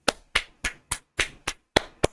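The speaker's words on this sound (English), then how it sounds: "clapping, applauding," Hands clapping eight times in a loose, slightly uneven rhythm, each clap sharp, close and distinct with brief silence between, no talk.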